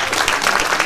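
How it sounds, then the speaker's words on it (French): Brief burst of audience applause at a French mentalism stage show, steady dense clapping filling the room without pause. "on peut vous applaudir"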